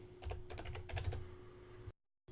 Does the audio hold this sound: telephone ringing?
no